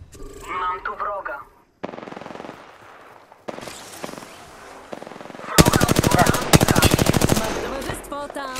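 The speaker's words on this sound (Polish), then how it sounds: "Jestem pod ostrzałem." Automatic gunfire in the Apex Legends battle royale shooter, bursts of rapid shots that grow louder and denser toward the end, mixed with game sounds and brief pauses.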